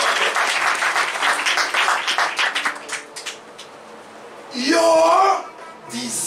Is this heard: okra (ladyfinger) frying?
no